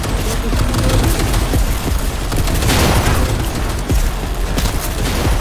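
Rapid gunfire rattles in dense, loud volleys for several seconds, heavy booming bursts overlapping with almost no pause.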